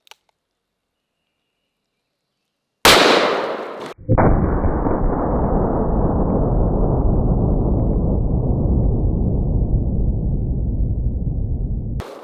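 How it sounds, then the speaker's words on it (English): A .500 Magnum revolver fires a single Underwood 350-grain jacketed hollow-point round: one sharp, very loud blast, followed by a long ringing decay that fades slowly over several seconds. "now we're going to shoot it with the 500 Magnum"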